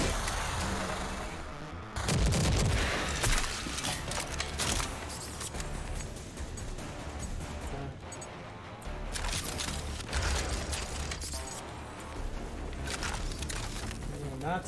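Rocket launcher fire and explosions in the shooter video game Rage 2: dense, loud bursts of blasts and gunfire, with a heavy boom near the start and repeated impacts under game noise throughout.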